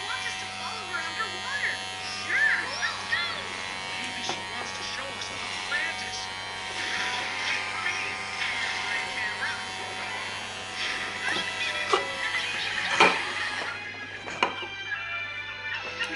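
Electric hair clippers buzz steadily for the whole stretch while cutting a young boy's hair into a mohawk at home, a low mains-like hum underneath and a person talking over it with brief clicks and handling noises.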